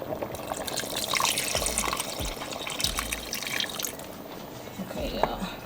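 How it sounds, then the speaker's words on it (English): Water poured into a pan of chicken with its meat juices, a soft running, splashing pour with faint drips close by, under steady kitchen background noise. "Looks like I'm gonna add a little bit of water."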